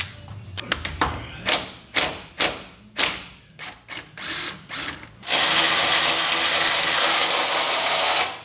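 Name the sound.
removing bolts with hand tools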